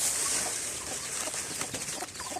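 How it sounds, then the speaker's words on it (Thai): Busy chickens clucking and chirping over a constant hiss, several short calls overlapping in an uneven, chattering rhythm, fairly close. "โอ้เสียงไก่เรียกร้องเลยนี่"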